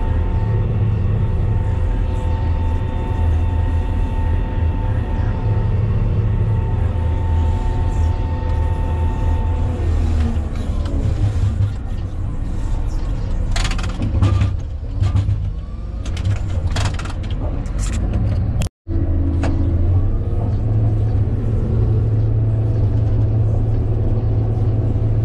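Motor grader levelling an escape runway at a municipal airport, a loud, steady diesel engine drone that holds close for long stretches, shifts in load midway, then cuts out abruptly for an instant before resuming, with no speech.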